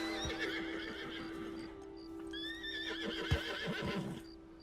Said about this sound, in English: we're going to rear the horse up. Now this will spin the horse out. The horse doesn't care for it.